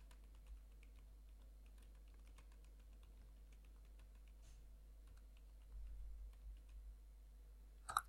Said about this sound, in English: Just type that, hit this search box.